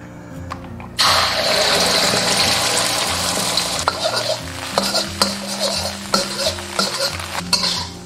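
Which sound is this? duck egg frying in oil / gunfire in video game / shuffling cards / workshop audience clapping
duck egg frying in oil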